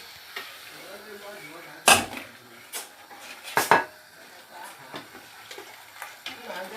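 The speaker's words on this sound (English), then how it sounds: "So you add and stir." Ogbono is stirred into soup in a pot, giving soft scraping and scattered clinks of a spoon against the pot, with two sharper knocks standing out over a quiet background.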